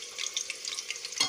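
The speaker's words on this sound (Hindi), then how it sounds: "घी जो है वो गर्म हो चुका है, और इसमें एक चम्मच जो है हम वो पीसा हुआ लहसुन डालने लगे हैं" Crushed garlic frying in hot ghee, giving a faint, steady crackle and sizzle with a slightly louder pop near the end.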